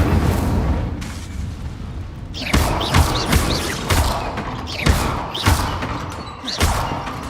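Incendio fire spells cast repeatedly in Hogwarts Legacy: a series of booming, whooshing bursts with thuds, about five evenly spaced blasts over a steady bed of game ambience, loud and close.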